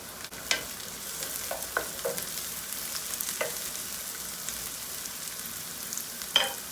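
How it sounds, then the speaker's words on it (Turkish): Onions and peppers frying in a covered pan, a steady close sizzle broken by scattered scrapes and knocks of stirring. "Hemen soğanı şöyle bir daha karıştıralım. Biberleri atalım."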